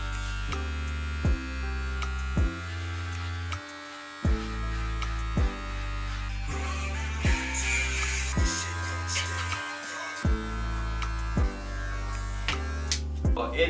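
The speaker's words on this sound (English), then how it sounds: "I actually wanna like shorten the beard a little bit." An electric trimmer shortens a beard, buzzing steadily with a pulsing hum that briefly cuts out twice, loud and close throughout.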